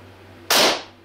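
An old pellet gun, converted into a bullpup air rifle, fires a single sharp crack that rings out loudly and fades quickly, with only quiet room hum before it.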